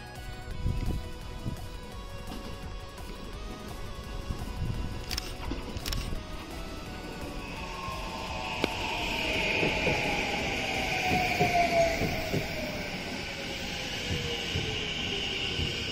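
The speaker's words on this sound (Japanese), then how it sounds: "やってきたのは下りの普通車です。" A local passenger train, a 6000 series bound for Himeji, rumbles into a station, a steady low roar with a whining tone gliding downward as it slows, heard from the platform at moderate distance.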